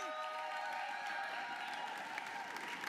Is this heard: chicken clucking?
no